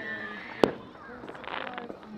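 At a hillside Fourth of July party, one sharp firework bang goes off close by, followed by a stretch of faint crackling from small shells.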